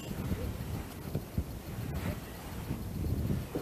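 Wind blows across a lake while fishing from the shore among reeds, a low buffeting rumble with gusts that rise and fall against the microphone, steady and fairly faint throughout.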